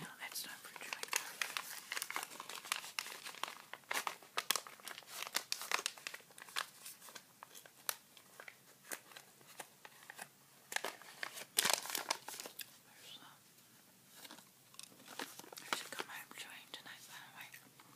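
Chewing gum packaging being crinkled and unwrapped up close, a dense run of crisp crackling and rustling bursts throughout, with a soft whispering voice intermittently underneath.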